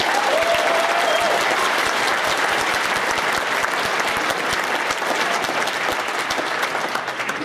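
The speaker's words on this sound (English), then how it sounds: "Let's give the doctors a round of applause." Sustained applause from a large crowd, dense and steady clapping throughout with a faint murmur underneath.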